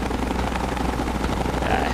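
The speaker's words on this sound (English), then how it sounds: "That helicopter is very, very annoying." A helicopter in the video game Fallout 3 drones steadily and loudly with a constant rotor roar for the whole stretch, and no voices can be heard over it.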